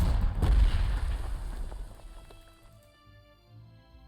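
An artillery shot in the wargame Panzer Corps 2 bursts as a loud, deep boom that swells and then decays into a long, fading rumble, with faint tonal game sounds left behind.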